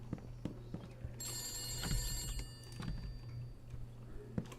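A telephone rings in a video game, a bright metallic trilling bell lasting a second or two amid clicks, taps and a low steady hum.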